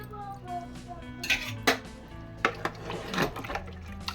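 A spoon clinks and scrapes against a pot while mixing coriander powder, garam masala, coriander leaves and mint into a mutton curry, giving several sharp metallic taps among softer stirring.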